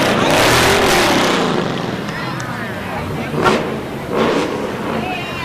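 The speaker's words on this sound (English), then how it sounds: "That's what American muscle cars sound like, right there." An American muscle car rumbles and revs at a 4th of July parade, its loud engine swelling and fading amid crowd noise, with a person talking nearby.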